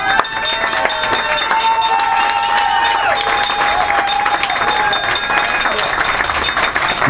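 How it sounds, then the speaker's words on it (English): A crowd at a farewell event breaks into sustained applause, dense clapping mixed with scattered cheers and whistles that fills the room, steady and loud throughout. "I expect a big, huge round of applause right now"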